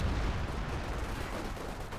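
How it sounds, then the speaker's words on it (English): An artillery strike lands in the World War II strategy game Company of Heroes 2, heard as a dense, low rumbling barrage of distant blasts rolling steadily for two seconds. "Now the artillery strike called in here right in the centre here."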